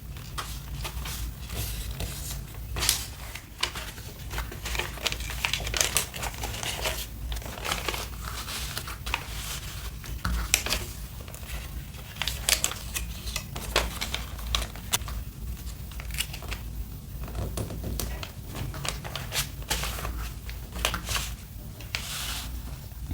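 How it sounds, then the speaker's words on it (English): Wrapping paper is cut and folded around a book for a gift, giving a long run of close, busy crinkles, rustles and sharp snips with no talking. "cut a narrow strip of the wrapping paper to around the book"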